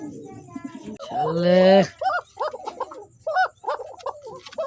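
Pigeons coo, a female and a male, close by: a loud burst of rolling calls, then a string of short repeated coos, with someone talking over part of it.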